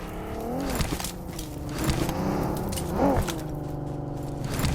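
A car engine in the mobile game Warzone revs and shifts pitch in rising and falling sweeps, with scraping and clunking noises over a steady background hum.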